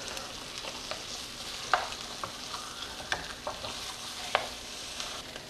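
Pork chops frying in a pan, a soft steady sizzle with a few sharp clicks and scrapes as they are turned, quiet and close with no talking.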